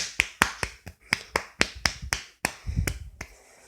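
A small group, apparently children, applauds a recited poem with about a dozen separate sharp claps in an uneven rhythm, close and distinct rather than blended.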